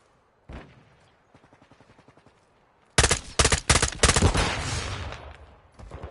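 Gunfire in Call of Duty Modern Warfare, a single shot and then a faint rapid patter, followed by loud close bursts of automatic fire in quick clusters that keep rattling to the end.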